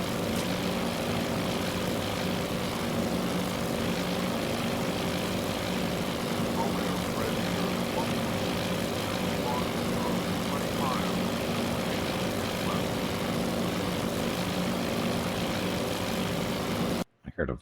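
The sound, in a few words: B-17 bomber aircraft engines in video game Task Force Admiral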